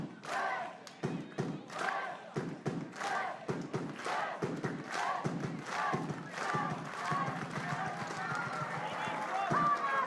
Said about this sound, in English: To the sound of the Viking clap.